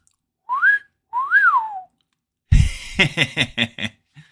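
Two short rising-and-falling whistled notes ring out alone, followed by a burst of chuckling laughter.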